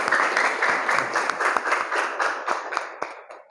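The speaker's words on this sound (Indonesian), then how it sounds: "Beri tepuk tangan untuk Harta" Brief applause from a small audience at a teacher performance exam session at Universitas Pasundan, scattered hand claps with a distinct rhythm, fading slightly toward the end, no talking.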